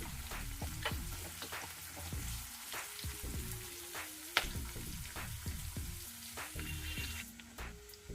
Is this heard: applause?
no